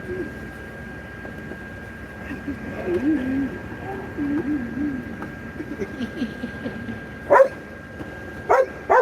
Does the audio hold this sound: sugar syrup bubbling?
no